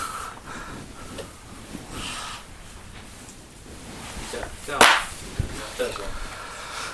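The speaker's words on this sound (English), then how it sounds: "That's a cough here." A single sharp cough bursts out close by, with quiet room noise and a few soft shuffles around it.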